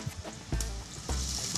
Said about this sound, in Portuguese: aqui onde a cebola está dourando e o frango fritando ainda